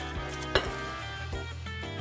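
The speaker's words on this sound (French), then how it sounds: "on va la mélanger aux légumes et aux nouilles" Sauce being stirred into noodles and vegetables in a pan for an oriental noodle salad: a sharp utensil clink against the pan amid low steady sizzling and scraping, moderately close, no talking.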